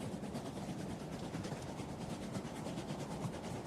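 A runaway train rolls along its rails, a dense, steady rumble and roar with faint clattering, continuous and fairly close, with no talking.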